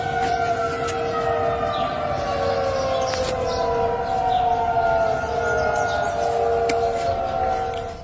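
A sustained civil defense siren wail, several long tones rising and falling slowly together, loud and steady throughout with no voices.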